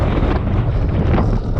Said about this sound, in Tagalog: Grabe, lakas ng hangin talaga rito.